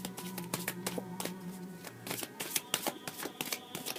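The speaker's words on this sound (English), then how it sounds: "Okay, my cards are still asking to be shuffled." A deck of oracle cards is shuffled by hand close up, giving quick flapping riffles and snapping taps over soft background music.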